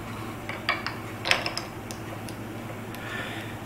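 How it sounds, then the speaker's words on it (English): A guitar string is tightened on a Floyd Rose tremolo, giving a few faint metallic clicks and small creaks close by over a low steady hum. "when I start tightening this string, it's going to lock that right onto it"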